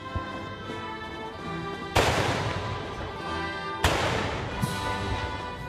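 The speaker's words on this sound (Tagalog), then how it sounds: "pagpapaputok ng kanyon bilang pagbibigay pugay kay Rizal" Two heavy, booming ceremonial cannon salute blasts fire a few seconds apart at a Rizal Day commemoration, each with a long rolling echo fading over steady outdoor noise.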